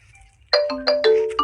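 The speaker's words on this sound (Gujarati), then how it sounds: "કોનો ફોન આવ્યો?" A phone ringtone in a Gujarati comedy sketch plays a bright melodic chime that starts after a short quiet lead-in and repeats in loud, clear note bursts with sustained tones, alone without talk.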